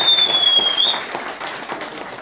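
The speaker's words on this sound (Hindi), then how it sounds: "तो एक बार तालियां बनती हैं।" A crowd claps in a gathering, a moderately loud spread of scattered hand claps that fades gradually, with a brief high electronic whine or feedback tone over the first second.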